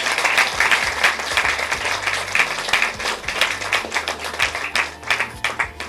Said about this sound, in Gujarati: તો જોરદાર તાળી થઈ જાય